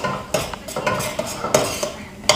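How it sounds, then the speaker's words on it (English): Eggs for fried rice cook in a pan, heard as close, busy scraping and clinking of a metal utensil against the pan in quick irregular strokes, with only a faint sizzle beneath and no speech. "You want to cook your eggs till it's dry"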